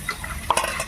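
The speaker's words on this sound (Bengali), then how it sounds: "এটাকে ভালো করে এবার এর সাথে মশলাটার সাথে ভালো করে কষে নেব" Spice paste stirred and fried with chopped green tomato in a pan, soft scraping of a spatula against metal with a couple of clinks and faint sizzle, close and brief, no talk.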